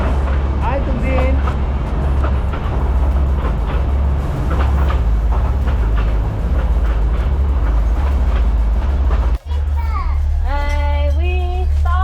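Matheran toy train rolling along its mountain line with a loud, continuous rumble and clatter, a brief dropout near the end, and chirpy voices or squeals over the final seconds.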